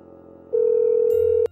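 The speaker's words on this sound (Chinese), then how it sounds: "我得给小张打个电话，让他解决一下。" A single steady telephone ring tone sounds for just under a second during an outgoing call, followed by a brief click and low hum.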